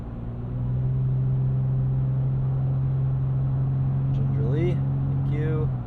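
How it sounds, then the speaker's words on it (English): A 2022 Toyota 4Runner TRD Pro picks up speed on a highway, its steady engine drone and road rumble filling the cabin throughout, with brief talk near the end. "Go ahead and get this thing up to speed."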